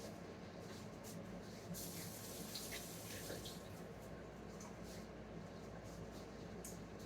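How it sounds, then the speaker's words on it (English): Liquid with vinegar poured over the top of a smoked bacon-wrapped pork roast, a steady splashing trickle under faint background noise, continuous for several seconds. "So we're just going to pour this over the top of the roast."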